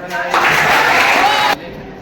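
At Nagar Nigam Inter College in Kathgodam, a crowd of students claps to welcome a guest, with a burst of dense applause that starts abruptly, holds for about a second, then cuts off, fairly close.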